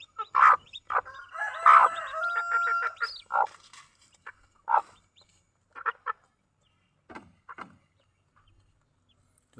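Chickens and a rooster close by, with a burst of loud crowing and clucking early on, then scattered short clucks and calls at a quieter level with pauses between them.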